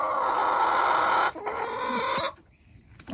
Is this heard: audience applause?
no